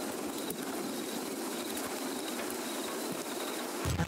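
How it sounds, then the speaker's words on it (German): Birds chirping and doves cooing in the ambient soundscape of the video game Countryside 1999, a soft steady outdoor bed of calls with faint insect-like hiss, heard alone without speech. "Vögelchen."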